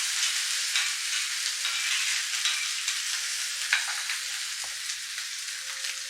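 Onion and green chillies hit hot oil with spluttering mustard seeds for oats upma, giving a continuous bright sizzle up close, broken by a few light clinks of a spoon stirring the pan. No one speaks.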